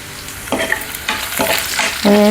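Four or five dried red chilies sizzle and crackle in hot oil for dal tadka, a steady close frying hiss with spoon stirring strokes and a louder burst of sizzle at the end.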